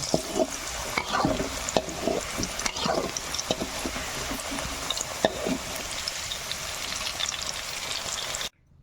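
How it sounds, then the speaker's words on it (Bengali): Potatoes fry in hot oil in a home kitchen while being stirred, giving a steady close sizzle with scraping stirs throughout, no talk, ending abruptly. "আলু ভাজাটা মোটামুটি হয়ে গেছে"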